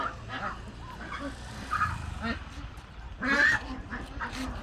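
Several ducks quack in bursts nearby on a large commercial duck farm in Cambodia, with honking calls over a background of murmuring voices and farm ambience.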